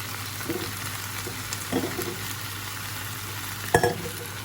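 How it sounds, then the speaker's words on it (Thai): Bamboo shoots stir-fried in a pan for a spicy fish-ball dish, a constant sizzle broken by three distinct spatula scrapes and clatters, close and without talk. "หลังจากนั้นก็ใส่หน่อไม้เนาะค่ะ ใส่หน่อไม้ที่เราเตรียมไว้ลงไปนะคะ"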